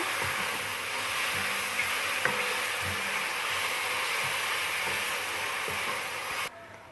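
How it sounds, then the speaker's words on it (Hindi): Chopped onions sizzle in hot oil for a light-brown fry, a steady broadband hiss with faint crackles running evenly throughout, then dropping away abruptly near the end. "अब मैं इसमें डालती हूँ चॉप किया हुआ प्याज, और प्याज को हम लाइट ब्राउन से कर लेते हैं"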